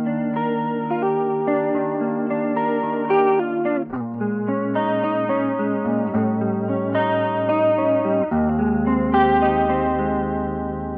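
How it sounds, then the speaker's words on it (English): Clean electric guitar melody through a vibrato chorus pedal with a lush, wavering shimmer, notes ringing and overlapping smoothly, played alone without speech. "Beautiful vibrato chorus pedal."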